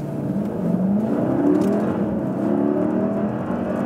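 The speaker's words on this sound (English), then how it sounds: "we can also do a short acceleration from standstill for you" A 2020 Mercedes GLS, a heavy SUV, pulls away hard from a standstill up to 60 mph, its engine drone rising steadily in pitch over several seconds under a continuous cabin roar, with no talk.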